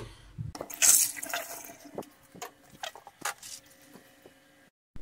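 Water poured into a small cooking pot to boil peas, a close splashing pour with drips and small clinks around it, no talk over it.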